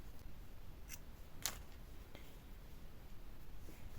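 Scissors snipping crochet yarn, a couple of quick, faint close-up cuts over a low background hiss, with no talking.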